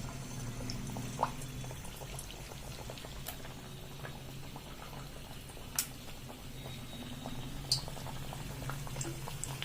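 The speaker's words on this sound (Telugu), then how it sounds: "ఆయిల్ అయితే హీట్ ఎక్కింది ఇప్పుడు మనము బజ్జీలు వేసుకుందాము" Raw banana bajji fritters fry in hot oil in a home kitchen, giving a steady, soft bubbling sizzle throughout with a few faint clicks and taps.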